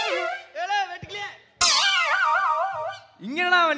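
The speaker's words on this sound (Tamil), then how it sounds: "ஏதோ இளவெடுத்த நாய் ஒன்று வருது." A dog whines and howls in long, wavering cries, broken by short pauses, close and fairly loud.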